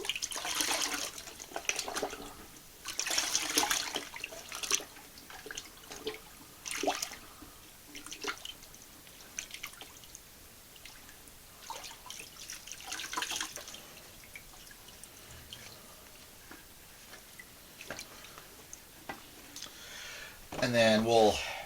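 Canvas pieces are dipped into black walnut hull dye and soaked, giving soft intermittent splashes, drips and sloshing close by, with a person talking throughout.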